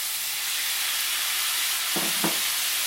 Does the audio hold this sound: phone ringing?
no